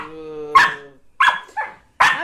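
A dog barks close by in a home, three or four sharp yips and barks spaced about half a second apart, following a whining tone at the start.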